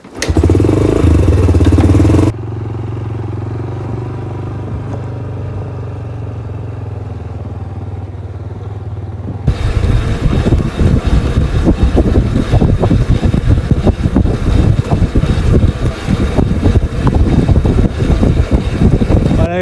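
A dusty motorcycle being started and ridden off, first a loud crank and idle, then a steady low engine drone, and finally a louder rougher riding roar with clatter that continues to the end.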